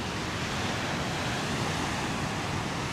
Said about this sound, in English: Let's let you guys hear the sounds of the ocean one more time